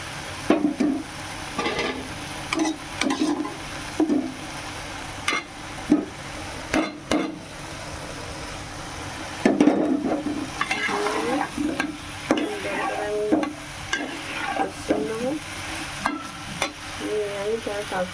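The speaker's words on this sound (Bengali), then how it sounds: "আমি ভালো করে নাড়তে থাকবো" A spoon scrapes and stirs soybean curry with fried potatoes in a sizzling pan, giving repeated uneven clinks and scrapes over a continuous frying hiss.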